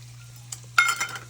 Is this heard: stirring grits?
yes